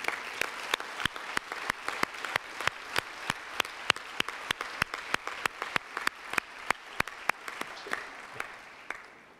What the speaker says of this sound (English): Let us give everybody of them, the host, a huge round of applause.